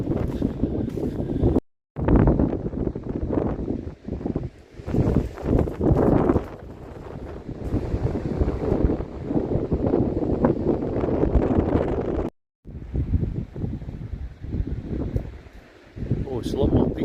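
Strong wind roars and buffets the microphone up among the rocks above a beach, loud and continuous with brief gusty lulls.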